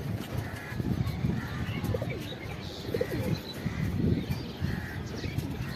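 Pigeons on a rooftop, including newly released young birds, give soft repeated low coos with a few chirps over a steady outdoor background, close by and continuous.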